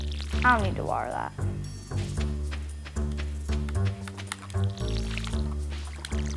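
A watering can pours over crops in Stardew Valley, soft splashy liquid sounds layered over the game's steady background music, with a short gurgling pour near the start.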